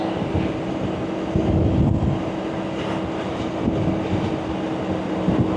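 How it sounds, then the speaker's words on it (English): Steady wind buffeting the microphone on a BMW K1600 GTL motorcycle ride near Los Alamos, New Mexico, a continuous low rumbling roar with gusts swelling and easing throughout, no voices. "it is windy out here."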